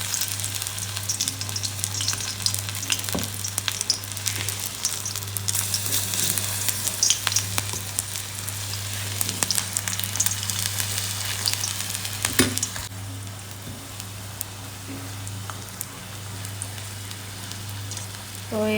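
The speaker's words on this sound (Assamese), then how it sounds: "তেলখিনি গৰম হোৱাৰ পিছত এতিয়া মই এইটো পিঠাটো দি তাতে" Pitha fries in hot oil, a loud, continuous crackling sizzle with sharp pops and spatters, softening somewhat in the latter part, under a steady low hum and with no talking.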